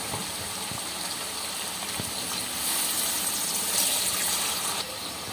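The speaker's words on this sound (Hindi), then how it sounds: "तो इसके बाद हम इसमें पानी डाल देंगे थोड़ा सा।" Water gushes steadily into a pot of chicken curry (chicken salan) in a village kitchen, a continuous hissing pour that swells slightly midway, with low background rumble and no talk.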